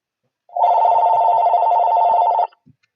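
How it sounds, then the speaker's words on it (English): A phone rings once in a single sustained electronic tone lasting about two seconds, loud and close, then stops, followed by a faint small handling click. "Sorry about my phone ringing."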